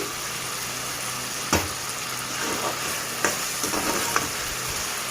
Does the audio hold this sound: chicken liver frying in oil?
yes